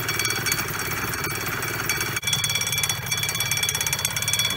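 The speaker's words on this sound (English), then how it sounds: "The Tyga exhaust system is looking beautiful and sounding great." Honda NSR250 MC21 motorcycle engine with a Tyga exhaust, a fast buzzing rattle running steadily and close throughout, with a brief dip partway through.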